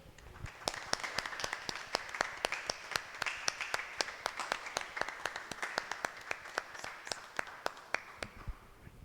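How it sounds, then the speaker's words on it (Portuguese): A church congregation applauds during a worship service, a steady crowd of hands clapping for about nine seconds, with many sharp individual claps standing out above the dense wash of applause. "Vamos aplaudir o Senhor Jesus nesse momento."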